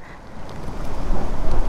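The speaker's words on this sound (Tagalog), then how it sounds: "Ang lakas ng hangin." Strong wind roars across the microphone during stormy weather near Pagbilao, a dense, rumbling gust that builds louder over under two seconds, with no voices.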